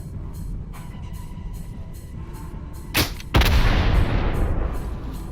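Double-barreled shotgun blasts in STALKER Anomaly, two sharp, loud shots close together about midway, the second followed by a long rumbling decay over faint background ambience.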